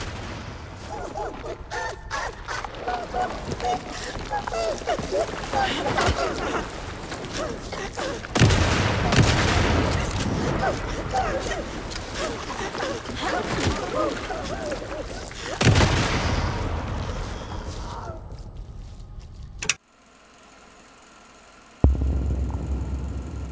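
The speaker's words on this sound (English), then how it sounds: "we repeat the melee attack and shotgun combination" Shotgun blasts and melee strikes during a boss fight in the game Alan Wake 2 boom repeatedly over dense, continuous combat noise and a talking voice, ending with a brief drop to near silence.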